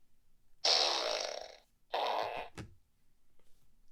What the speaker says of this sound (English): It's Fart.